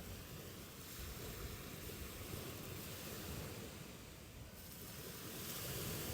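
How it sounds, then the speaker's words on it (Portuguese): Ocean waves wash onto a beach in a steady, broad roar with gentle swells rising and falling, heard alone without voices. "focada apenas no som do mar"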